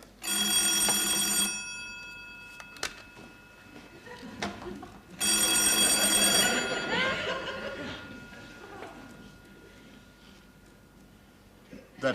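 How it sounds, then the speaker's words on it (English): An old-fashioned telephone bell rings in two long bursts, loud and close, followed by laughter and chatter from a studio audience. "That's the phone."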